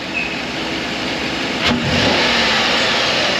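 Chevrolet Tahoe engine revved hard as the gas pedal is floored and released, a loud, close roar that swells sharply midway and holds high to the end, with no talk over it.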